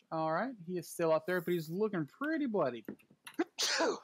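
A single loud sneeze near the end, following someone speaking during a tabletop role-playing session.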